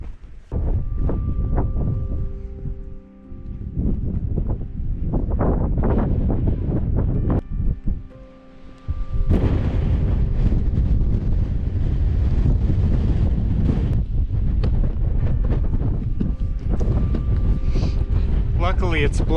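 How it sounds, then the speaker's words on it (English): Strong wind roars and buffets across an exposed Welsh mountainside during a solo wild camp, a loud, steady broadband rush with brief lulls between gusts. "all dependent on the wind. It's on and off."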